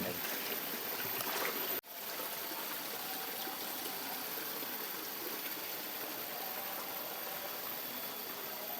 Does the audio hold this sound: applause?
no